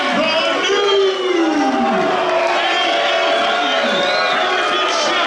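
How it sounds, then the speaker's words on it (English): A wrestling arena crowd at an independent pro wrestling show reacts loudly and steadily, a dense wash of shouting, jeering and yelling voices sustained for several seconds with no single speaker standing out. "This crowd is not happy."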